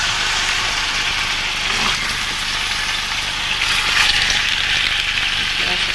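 Food browns in a hot pan in a gourmet posada kitchen in San Salvador de Jujuy, giving a steady, close, continuous sizzle and crackle of frying with no pauses.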